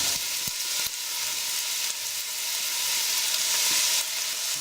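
Chopped onions, celery, carrots and leek fry in a pot for Scotch broth, giving a steady, loud, close sizzle throughout, broken by a few soft stirring knocks, with no talking.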